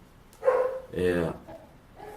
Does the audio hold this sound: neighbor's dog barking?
yes